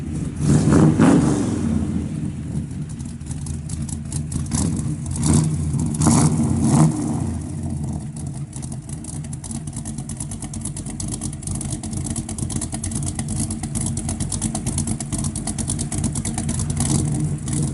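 A 1956 Chevrolet Bel Air two-door with a 4-speed and a 425-horsepower engine, its exhaust thumping loudly as it revs in a few bursts early on, then settling into a steady, rumbling idle.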